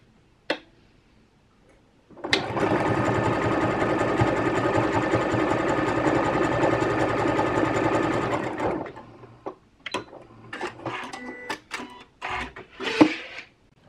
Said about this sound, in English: I'm going to go ahead and run a little zigzag stitch along the tops of and bottoms of both of these